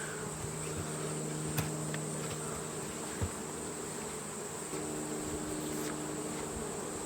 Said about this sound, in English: I got bees in the top box here.